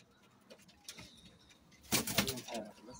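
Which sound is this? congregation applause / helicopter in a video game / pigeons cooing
pigeons cooing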